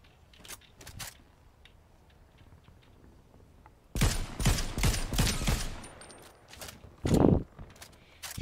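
Bursts of gunfire in Fortnite Zero Build: a few faint scattered shots early, then a loud rapid volley around the middle and another sharp burst shortly after.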